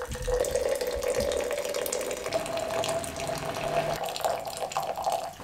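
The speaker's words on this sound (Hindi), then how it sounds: "इसके अंदर यहाँ पे शिफ्ट कर देंगे उबलता हुआ पानी।" Boiling water is poured from a pot into a jug as a steady, continuous splashing stream of liquid that holds constant for several seconds at moderate loudness, with no talk.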